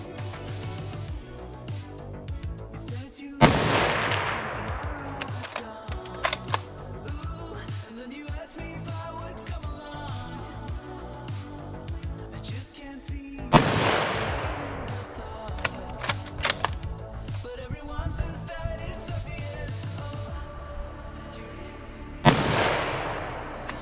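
Three sharp, loud gunshots ring out outdoors, spaced roughly ten seconds apart, each with a decaying echo, and quieter rustling and handling noise fills the gaps.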